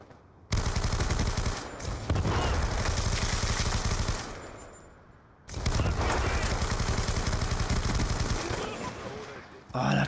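Rapid automatic gunfire in Black Ops 2 rattles in two long sustained bursts separated by a short pause, loud and dense, with a faint voice briefly audible.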